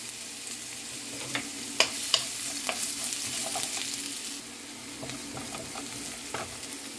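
Garlic and onion sauté in hot oil for chicken pochero, a steady close sizzle broken by several sharp scraping stirs, easing slightly in the later seconds.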